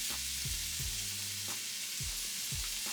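Garlic and herb butter sizzling and frying in a pan used for vegetable fried rice, a loud, steady crackling hiss with low thumps of stirring throughout, no voices.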